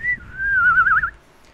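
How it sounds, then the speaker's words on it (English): A person whistling outwards, one sustained high tone that wavers and warbles toward the end, close and alone. "So you can whistle outwards."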